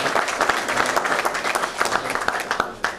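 An audience at a president's cocktail reception and season program presentation claps steadily, a dense, lively burst of applause filling the room for a few seconds before tapering off.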